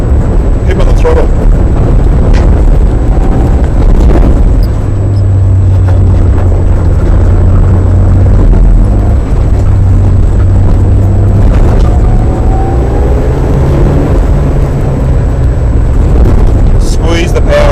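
A Mitsubishi Evo 8 rally car's engine drones low and steady under hard throttle on a rally school track at Willowbank Park, loud and close inside the cabin, with wind buffeting and a coach talking over it.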